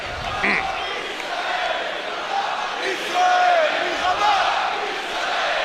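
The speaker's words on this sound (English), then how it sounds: "The crowd is dying to get their team going." Home crowd at a FIBA EuroBasket 2017 basketball game between Germany and Israel roars and chants in a big arena, a loud continuous swell with a commentator talking over it.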